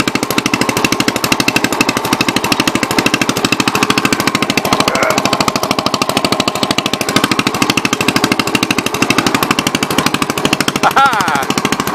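Engine of a 1963 Cub Cadet lawn tractor running while it is driven, a loud, rapid, evenly pulsing single-cylinder chug that continues steadily throughout, very close.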